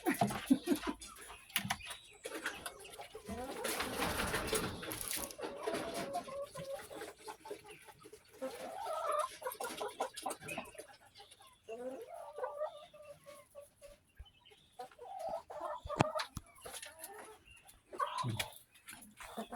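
Chickens cluck and squawk inside a coop with chicks and turtles nearby, scattered calls mixed with rustling and handling noises while people talk close by.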